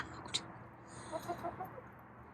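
Four backyard chickens cluck softly and intermittently while pecking at half a head of cabbage, faint and close with quiet background.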